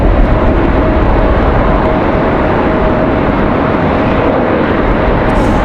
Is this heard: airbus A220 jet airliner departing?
yes